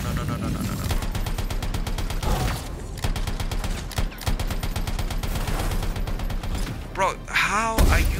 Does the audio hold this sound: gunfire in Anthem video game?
yes